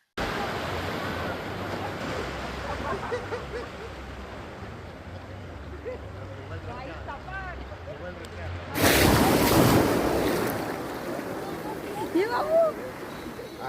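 Surf washes onto a Goa beach, where kayaking is offered, with a steady roar and a louder surge of breaking water partway through. Wind buffets the microphone, and voices talk over the waves.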